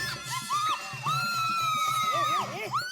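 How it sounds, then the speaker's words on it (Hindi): A woman screams excitedly in a Hindi TV comedy scene, loud rising and falling shrieks over a rhythmic background beat, with no other voices. "तुम चिल्ला क्या रही हो?"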